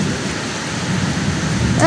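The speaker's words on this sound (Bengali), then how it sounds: "দেখো বিদ্যুৎ চমকাচ্ছে, ঝড় বৃষ্টি, কি আওয়াজ হচ্ছে!" Rain from a thunderstorm with lightning falls in a steady, heavy hiss close by, and a low rumble of thunder runs underneath.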